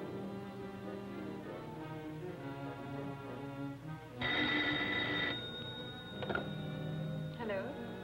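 An old-fashioned telephone bell rings in a 1943 adventure film serial, a bright burst of ringing near the middle and again briefly later, set against an orchestral score with a possible faint voice.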